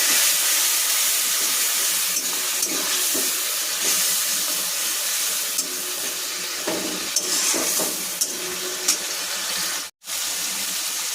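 Water poured into a hot pan of chicken curry hisses and sizzles steadily, a broad steamy crackle that carries on alone for several seconds before a brief cut.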